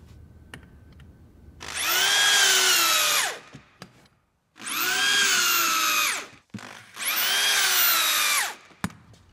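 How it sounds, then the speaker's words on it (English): Power drill sinking dowel holes into insulation board, three loud whining bursts of about two seconds each with short pauses and clicks between, close and alone. "These are sunk with the appropriate drill bit in the proper depth."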